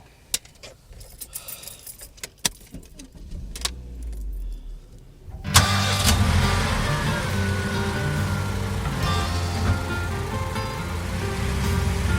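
A set of keys jingles sporadically for several seconds before a car engine abruptly catches and settles into a steady, fairly close running drone.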